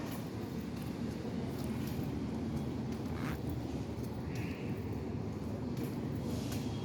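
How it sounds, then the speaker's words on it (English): An MBTA Orange Line train approaches Ruggles Station, a steady, loud broadband rumble of wheels and motors that holds evenly throughout, with faint hissy bursts on top. "Train approaching. Please remain behind yellow line."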